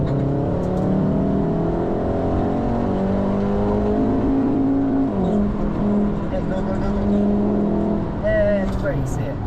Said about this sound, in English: Turn in, smoothly on throttle, and full power.